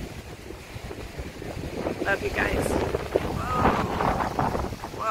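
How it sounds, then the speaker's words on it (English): Strong gusty wind from Tropical Storm Isaias roaring and buffeting the microphone on Long Island, New York, growing rougher toward the end, while a person speaks briefly over it. "It's very, very windy, and it's gonna get worse."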